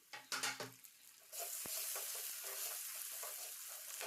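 Tomato frying with spices in a hot pan: a few loud clatters of stirring at the start, then a steady, close sizzle with light scraping throughout.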